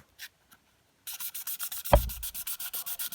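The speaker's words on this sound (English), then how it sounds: "get the sandpaper," Sandpaper roughing up the surface of a resin coaster: a steady back-and-forth scratchy rubbing in a quick regular rhythm, close and moderately loud, after a couple of faint taps, with no speech.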